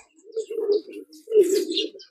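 A breeding pigeon coos close by in two soft, throaty phrases separated by a short pause, alone in otherwise quiet surroundings.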